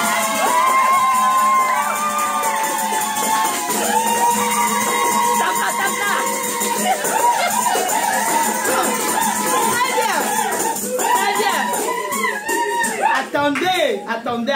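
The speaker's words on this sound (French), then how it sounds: "Non, on applaudit." Wedding guests cheer, whoop and clap loudly at a ceremony, a dense continuous crowd roar with children's shouts mixed in, lasting throughout with scattered voices on top.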